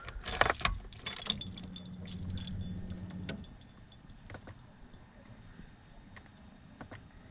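Ignition keys on a Nissan 240SX jangle loudly up close, then the key turns with a click and a low steady hum follows before things go quiet with a few faint ticks.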